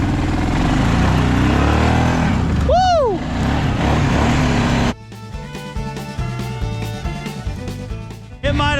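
A Kawasaki 650 four-wheeler mud build, its engine running loud and close with a rough, steady drone, a brief rising-and-falling pitch sweep, then a choppier stretch of uneven engine pulses.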